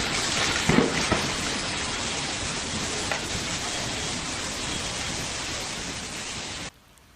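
Heavy rain during a storm in rural California, a dense steady hiss of downpour with a few louder splashes, continuous and close, with no voices, ending abruptly.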